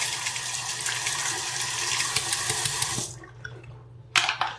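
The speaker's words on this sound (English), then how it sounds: "I'm going to splash some water on my face, clean myself up." Tap water runs steadily and close for about three seconds as someone rinses their face after shaving with a disposable razor, then stops, followed by a brief splash.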